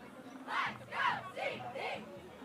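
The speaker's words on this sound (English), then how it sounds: "And a nice crowd has settled in here at Central York, too." Football fans in the stands at a high school game in Central York chant in rhythmic bursts, four swelling shouts from a massed crowd heard at a moderate distance.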